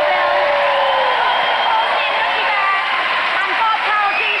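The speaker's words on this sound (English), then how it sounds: "Keep your applause going, please." Studio audience applause with cheering during an Ant and Dec ventriloquist challenge on a TV show. Dense, loud, sustained clapping fills the whole stretch, with whoops and voices rising over it.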